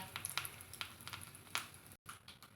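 Chillies and curry leaves sizzle in hot oil while being tempered for coconut chutney, making a soft, close crackle with a few sharper pops and a brief break near the end.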